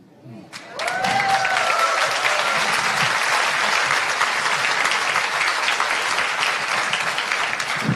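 After a brief moment of quieter sound, an audience at a public meeting with actor Kevin Spacey breaks into loud, dense, sustained applause that fills the room and holds steady to the end.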